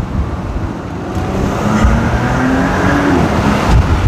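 A Porsche Cayenne pulls away hard from a standstill, heard from inside as a loud, dense engine roar with rising tone that builds steadily over a few seconds, with no talking.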